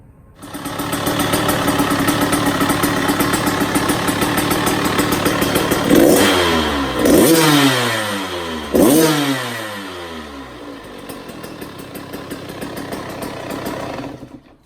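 A 2020 KTM 85 dirt bike running after a 105 big bore install, idling steadily and loudly, with two sharp revs in the middle before settling back to a steady idle, no talking.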